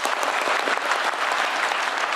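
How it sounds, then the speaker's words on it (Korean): A town-hall audience in Jeonbuk gives mayors and county heads a burst of applause, a thick, continuous clapping that fills the short span evenly. "박수 한번 주세요."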